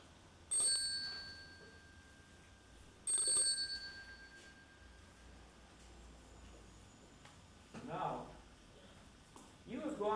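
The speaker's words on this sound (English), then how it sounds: "the bell brings you back to where you are" A small bell rings twice during a guided meditation, each bright strike left to fade slowly, then a calm voice speaks quietly over the quiet room.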